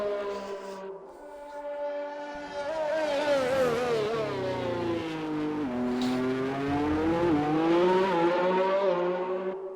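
Racing Point Formula 1 car in a racing video game at the Austrian circuit, its engine note rising and falling through gear changes, loud and continuous from an onboard view with no talk.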